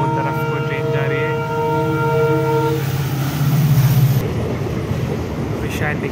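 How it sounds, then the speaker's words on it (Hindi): A long-distance passenger train from Gujarat to Kerala pulls out of a station: a loud, steady horn blast for the first few seconds, then a broad rumble of rolling wagons that continues to the end. "ट्रेन निकल रही है"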